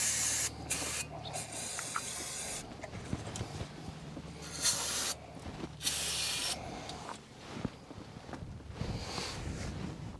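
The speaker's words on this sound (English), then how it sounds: "I am going to go ahead and spray in here to go ahead and clean this up" Aerosol brake cleaner hisses in repeated bursts over the brake parts of a third-generation Toyota RAV4, some sprays long and some short, with clicks and metallic handling noises between them, close by and with no talking.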